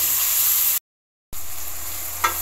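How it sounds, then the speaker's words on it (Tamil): Ridge gourd sautéing in a pan, a steady close crackling sizzle of frying that breaks off into a short silence and then resumes just as evenly, with a small clink near the end. "காய் வந்து நல்லா வதங்கி இருக்கு"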